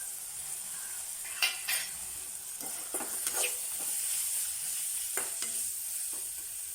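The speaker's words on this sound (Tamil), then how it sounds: "வெங்காயம் நல்லா வதங்கிடுச்சு." Onions sautéing with chili powder in a pan hiss and sizzle steadily, with a spoon or spatula stirring and clinking against the pan in scattered bursts; no talking.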